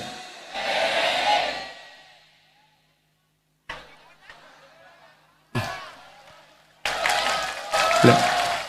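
Bursts of crowd applause at an Islamic religious sermon, a long swell of clapping, then short cut-off outbursts of clapping and cheering after brief silences.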